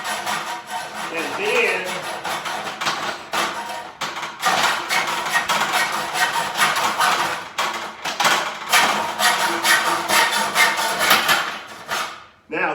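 Electrical conduit being sawn with short, quick strokes makes a steady run of close, loud rasping pulses that stops abruptly near the end, with a voice talking briefly over it.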